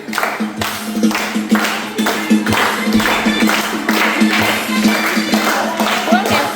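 Steady rhythmic hand clapping keeps time with lively group singing and music at a religious service, repeating evenly throughout.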